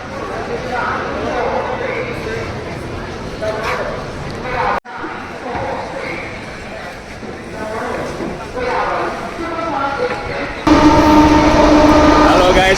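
A passenger train rumbles along steadily, with a loud, continuous clatter and people talking nearby over the noise.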